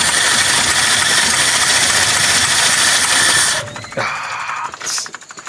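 A tired 1972 Jeep Wagoneer engine running at a rough, loud idle up close, with a carburetor that will not hold a higher idle. Partway through the engine cuts out, leaving scattered mechanical clicks.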